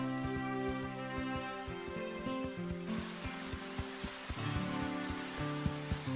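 Steady rain patters beneath a sustained musical score, the downpour hissing evenly throughout with soft droplet ticks.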